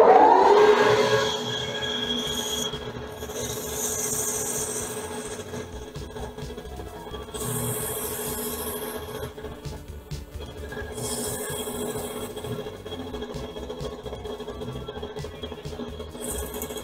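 Fine grit sandpaper rubs steadily against a Winchester 1892 rifle barrel in a soft, continuous scratchy hiss with faint rhythmic strokes, over a low background hum in a workshop.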